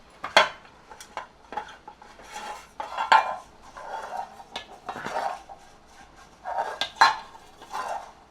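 A cooker vessel is greased with oil for steaming khaman dhokla, with repeated scraping strokes and metallic clinks against the pan at an uneven rhythm, close up and without talking.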